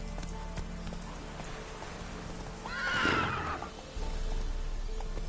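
Roach the horse whinnies once loudly in The Witcher 3, a rising then falling neigh over a background of galloping hoofbeats and faint ambient game sound.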